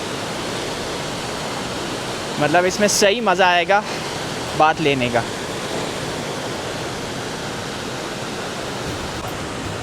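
Hot spring water at Leukerbad, Switzerland, fed down a rope channel, pours steadily in a constant broadband rush throughout, with someone talking briefly over it partway through.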